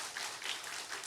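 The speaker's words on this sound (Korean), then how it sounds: "박수 한번 쳐야죠." Brief burst of clapping from a small church congregation at a Wednesday Bible study, a dense patter of hands lasting about a second at moderate volume with no talk over it.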